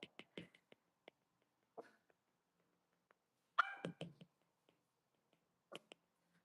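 A few short, sharp dog barks ring out intermittently amid quiet, with small clicks and taps in between.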